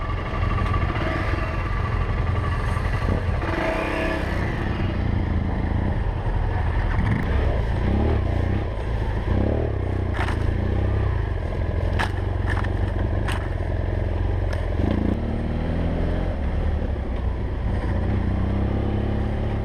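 A group of dual-sport motorcycles, a BMW HP2, F800GS, X-Challenge and Suzuki DR650, riding in together: a loud, continuous engine drone with rumbling exhaust and occasional scrapes and knocks, close and unbroken throughout.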